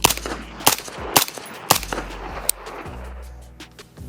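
Several suppressed shots from a rifle fitted with a SilencerCo Velos 556 suppressor, fired into dirt outdoors, come as sharp separate cracks at uneven intervals, loud and close, with no talking.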